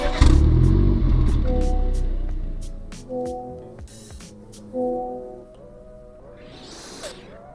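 A BMW 30T starts up with a loud burst of engine rumble that settles into a steady idle. Chimes and clicks sound from inside the cabin, then a couple of light revs come through close by.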